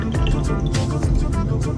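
Rubbing alcohol poured into a bong, a steady loud gurgling, splashing stream of liquid with no pauses, close up.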